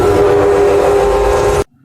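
A train horn sound effect blares as one loud, steady, harmonically rich blast held for about a second and a half, then cuts off sharply into silence.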